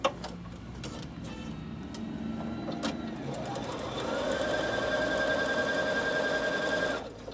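A Bernina sewing machine stitches across the bottom seam of a piece of fabric, starting as a soft, uneven whir and then settling into a louder, steady motor hum with a fast mechanical tick that runs for several seconds before stopping.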